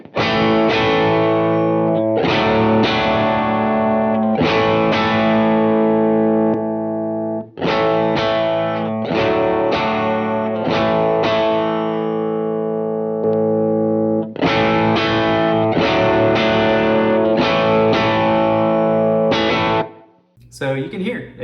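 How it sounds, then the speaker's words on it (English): Electric guitar through a Superbolt overdrive pedal set as a mild first-stage drive, with strummed chords ringing and sustaining in several phrases separated by short gaps, loud and close. "So this is how the Superbolt sounds as my stage 1 overdrive."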